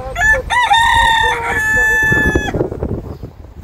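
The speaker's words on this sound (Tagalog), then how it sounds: "may silungan ng manok" Chickens in a shelter inside a park, with a rooster crowing loudly up close in two drawn-out calls, followed by rough clucking and scratchy fowl noises.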